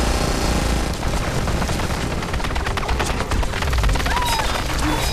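Dense, continuous battle gunfire from a film scene, with rapid overlapping shots and booms forming a loud, unbroken wall of combat noise throughout.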